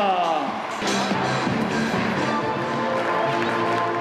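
Crowd noise at the Les Petits As 2007 junior tennis tournament's delegation presentation evening, broad steady applause and cheering for the French delegation, dense and continuous throughout with scattered whoops over the clapping.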